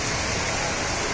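Steady rain falls in Dehradun during the monsoon, a dense, even hiss of drops with no talk over it.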